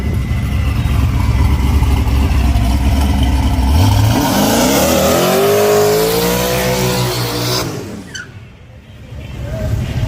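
A tuned street car at a local hood track revs hard with rising, crackling engine harmonics that sweep upward, popping and spitting loudly before cutting off abruptly, then a brief lull as noise returns.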